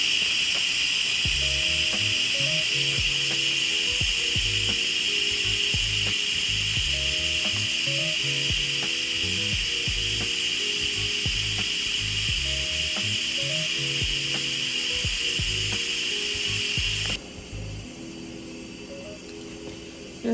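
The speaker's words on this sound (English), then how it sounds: "you just want to turn this over to venting to let all that steam off" A pressure cooker releases steam through its vent after cooking long grain white rice, a loud steady hiss that fills the clip with a mechanical rattling underneath, then drops sharply near the end.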